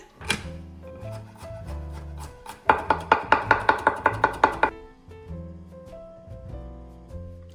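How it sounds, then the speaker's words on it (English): A knife chops garlic on a cutting board in a home kitchen, a fast run of about ten sharp, close taps in the middle. Steady music plays underneath throughout. "I'm now going to cut the garlic."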